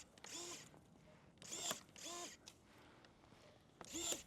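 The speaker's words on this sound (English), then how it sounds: "put the shears between what you want to cut, and pull the trigger. And it's cutting this very easily." SeeSii battery-powered electric pruners snip quarter-inch branches in four short motorized bursts, each a brief whirring cut, close up and fairly faint, separated by quiet pauses.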